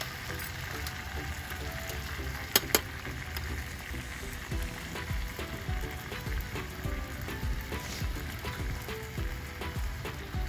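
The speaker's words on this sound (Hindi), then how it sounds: "आलू भी थोड़े से भुन चुके हैं" Potatoes frying in a pan give a steady, even sizzle and crackle throughout, moderately loud and close, with a couple of brief sharp clinks partway through.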